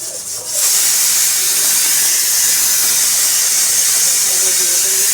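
Whole cumin seeds drop into hot oil for tempering and burst into a loud, steady close sizzle that starts abruptly and continues unbroken.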